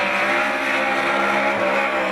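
A Ford Mustang drift car revs hard at high angle around Pukekohe Park Raceway during a D1NZ pro drifting round, a loud, continuous engine roar with tyre noise filling the whole moment.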